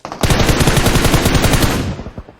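Rapid automatic gunfire in PUBG Mobile, a loud close stream of evenly spaced shots lasting about two seconds before tapering off, with no talk over it.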